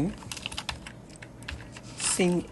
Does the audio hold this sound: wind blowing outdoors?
no